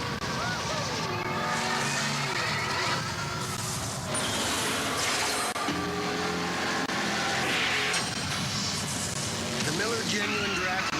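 Roaring engine of a Rusty Wallace NASCAR stock car, loud and continuous with shifting pitch as it revs and passes, mixed with music and other sounds throughout.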